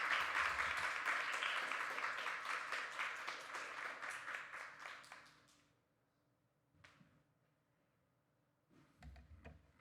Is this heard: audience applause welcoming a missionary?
yes